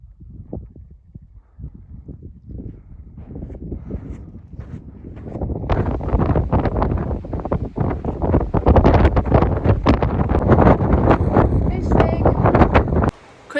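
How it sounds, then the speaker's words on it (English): Strong wind buffets the microphone in loud, rumbling gusts that build and stay heavy throughout, with a quieter stretch at the start. "It is so windy today."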